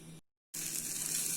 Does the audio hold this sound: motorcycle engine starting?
no